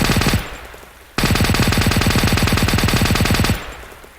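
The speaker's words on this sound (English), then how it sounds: "Short barrel submachine gun." A .45 ACP short-barrel submachine gun with a drum magazine fires in the Arma 2 World War II setting: two long, loud, rapid full-auto bursts, a brief gap between them, with no talking.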